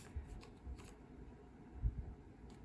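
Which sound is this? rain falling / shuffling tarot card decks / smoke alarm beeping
shuffling tarot card decks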